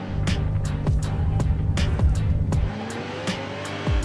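Race start between an 800 hp Nissan GT-R R34 and a 900 hp Toyota Supra, heard as loud revving engines with repeated sharp bangs and tire noise, close up, with no voices.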